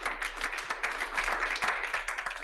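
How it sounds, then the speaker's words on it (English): Audience clapping for the organizing team at a Silicon Flatirons talk on generative AI and access to justice, with a brief burst of dense, moderately loud applause and distinct individual claps audible within it. "please give them a round of applause"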